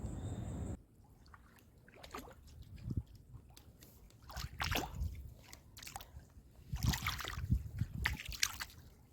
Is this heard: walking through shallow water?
yes